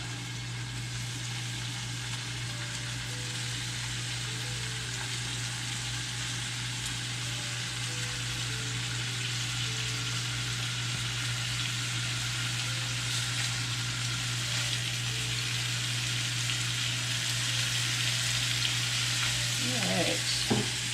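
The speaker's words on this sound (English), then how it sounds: "I'm hearing the sizzle, so I know my oil is hot, my pan is hot." Bacon-wrapped chicken tenders sizzle and crackle in hot oil in a frying pan, a steady dense frying hiss that runs throughout, with a low constant hum underneath and some clattering near the end.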